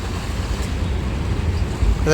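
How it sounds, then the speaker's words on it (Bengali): Fast-flowing river water with waves at Farakka Barrage, heard as a steady, loud broadband rush blended with wind buffeting the microphone from start to end. "জলের স্পিড আছে প্রচুর, ঢেউ আছে দেখুন।"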